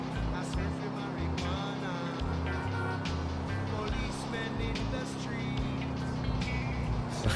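A car in GTA IV cruises at an easy pace, its engine drone steady and close under a lively mix of game noise, with someone talking over it.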